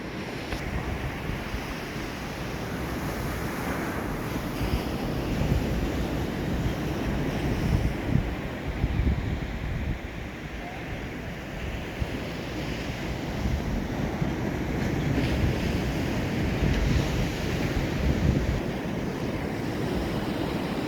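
Sea waves rolling onto Munge beach on the Konkan coast, a continuous broad wash of surf mixed with wind buffeting the microphone, steady and fairly loud with no voices.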